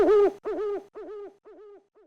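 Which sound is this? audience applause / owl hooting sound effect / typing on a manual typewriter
owl hooting sound effect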